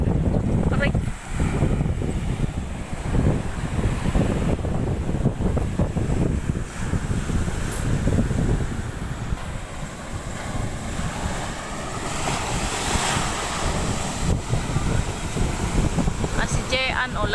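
Steady roar of surf and gusting wind buffeting the microphone, with waves washing continuously throughout and faint voices now and then.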